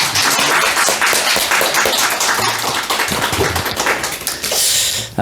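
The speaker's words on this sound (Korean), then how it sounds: "하나님께 감사와 영광의 박수 올려드리겠습니다" Church congregation applauding during a Sunday worship service, steady dense clapping from many hands filling the room throughout, loud and close, with no talk over it.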